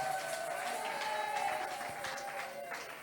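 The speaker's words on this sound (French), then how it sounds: "Est-ce qu'on peut acclamer très très fort pour le Seigneur?" A church congregation applauds and cheers during an evangelical service, a dense sustained wash of clapping and crowd voices from a large room, with a tonal hum and voices shouting over it.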